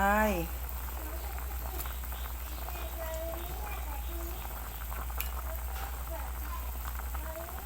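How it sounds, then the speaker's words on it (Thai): Hot and sour snakehead fish soup boils in a covered pot with a steady bubbling hiss over a low constant hum, and a brief voice-like sound at the very start. "เดือดแล้วค่ะ"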